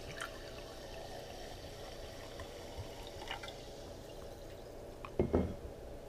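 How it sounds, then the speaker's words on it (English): Saratoga sparkling spring water poured into a glass: a faint, quiet trickle and fizz of carbonation, with a brief louder splash near the end. "I'm gonna try pouring them in a glass just to give you a better idea of how much carbonation there is."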